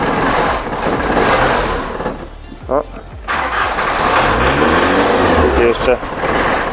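A Volkswagen Passat B3 engine runs and revs up and down, sputtering and prone to stalling, amid ongoing background noise, with people talking nearby.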